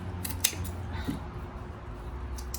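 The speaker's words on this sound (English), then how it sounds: "I can cut the rooting system off." A few close scissor snips cutting the roots off a succulent during potting, two quick cuts near the start and a softer pair at the end over a quiet background.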